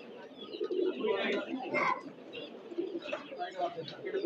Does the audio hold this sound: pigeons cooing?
yes